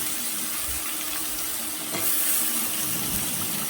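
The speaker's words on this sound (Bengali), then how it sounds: "এভাবে একটু ভেজে নিতে হবে আলুগুলো" Small diced potatoes frying in oil in a pan for a prawn dish, a steady, close sizzling hiss that holds evenly and swells slightly toward the end.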